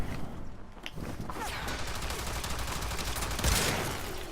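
Rapid burst of gunfire from the Euphona Prime in Warframe, a dense fusillade of shots layered with whooshing effects, loud and steady, with a sharper crack near the end.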